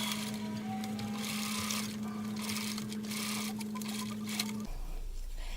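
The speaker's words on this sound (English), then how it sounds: "I'm just going to do a straight stitch right here" A sewing machine runs a steady straight stitch, attaching ribbon to a fabric face mask: an even, continuous mechanical whir close by that stops abruptly near the end, leaving quiet room tone.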